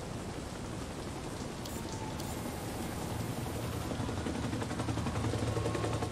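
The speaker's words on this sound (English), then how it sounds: "there's a lot of gloomy rain." Steady, gloomy rain pours across an open-world city in Marvel's Spider-Man on PS4, a dense continuous hiss of drops on surfaces that swells slightly toward the end, with no talk over it.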